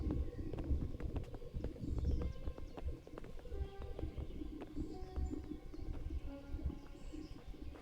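Horses' hooves clip-clop steadily on hard ground for several seconds in the video game Kingdom Come: Deliverance, with a busy, slightly muffled backdrop and faint bird calls.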